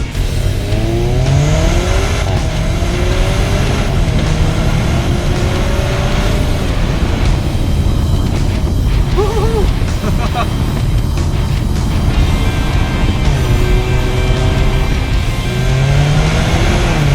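A Jaguar XE R-Sport car accelerating through the gears, its engine note climbing and dropping in repeated rising sweeps as it shifts up, heard steadily from inside the cabin over road noise with a voice talking throughout.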